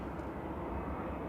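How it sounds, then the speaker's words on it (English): Distant airplane approaching Liverpool, heard at night as a faint, steady broadband engine roar that holds evenly throughout with no other sounds. "that's a plane approaching Liverpool"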